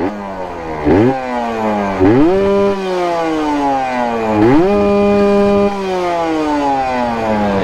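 A tuned motorcycle engine set up for everyday riding revs hard, loud and close, its pitch climbing in repeated sharp surges that rise, hold briefly and then fall back, with no talking.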